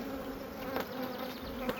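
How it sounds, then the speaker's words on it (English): Honeybees swarm over a frame of brood pulled from a full-size spring colony, giving a steady, dense buzz close by with a couple of brief knocks. "this is another frame of brood and bees"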